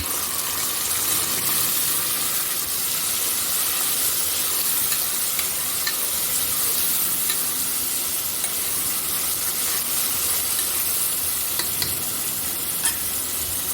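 Onion, tomato and green chilli frying in oil for aloo bath make a steady, close hiss and sizzle with light stirring scrapes and crackles, continuous and fairly loud, with no talking.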